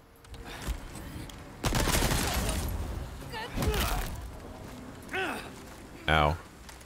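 Rapid submachine gun bursts in Resident Evil 4 come in short rattling volleys with gaps between them, mixed with game effects and cries.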